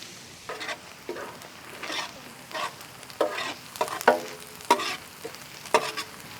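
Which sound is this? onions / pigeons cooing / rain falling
onions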